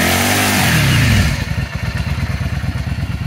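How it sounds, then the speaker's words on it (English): A 2009 Yamaha V-Star 650 Classic fitted with a Hypercharger intake revs loud and close, the pitch dropping off the throttle before settling into a steady, loping idle of rapid rhythmic thumps. "Let's end the video with one more look at that Hypercharger and then a little bit of a listen to the bike."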